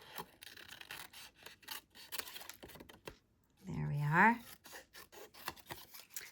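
Scissors cutting detailed paper shapes for handmade cards, with quiet, repeated short snips close by, joined briefly by a voice.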